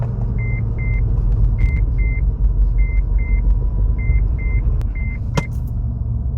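An Acura TL from the 2004–08 generation drives in third gear after a rear brake rebuild, giving a steady low engine and road rumble throughout with a repeating electronic chime over it and one sharp click near the end.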